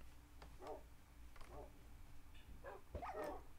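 Dog in the Minecraft video game giving several short, quiet barks and yips spaced apart over a low steady hum, with faint talking in the background.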